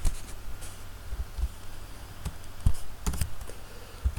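Computer keyboard keys being typed in short bursts, irregular close clicks and taps with a few louder key strikes and brief pauses, no talking.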